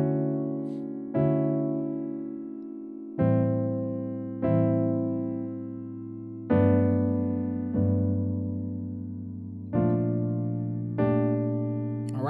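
Piano chords of a song played slowly, each one struck and left to ring before the next; about nine sustained chords in a steady progression, no voices.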